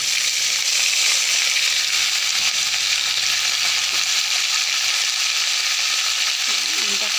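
Raw papaya hits hot oil already holding onion and green chilies, giving a loud, dense, unbroken hiss of frying close by for the whole stretch, with no speech.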